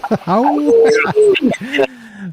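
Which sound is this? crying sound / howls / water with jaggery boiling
howls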